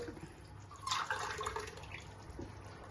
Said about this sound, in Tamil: இந்த 1 கப்பு தண்ணி இந்த குக்கர்ல ஊத்தி